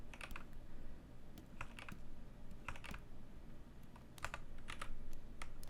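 Rapid, irregular clicks from a computer keyboard while someone models in Blender. The keystrokes come in short clusters over a steady low room hum, with no speech.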